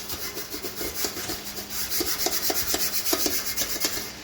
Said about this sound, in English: It's now a firm bristle brush from a wire brush.